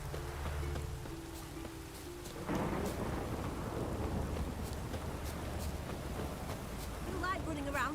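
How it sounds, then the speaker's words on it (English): A thunderstorm rolls through the game The Witcher 3, with steady rain hissing and rumbles of thunder swelling partway through, the downpour growing denser and louder toward the end; a voice speaks briefly over it. "A storm, damn it."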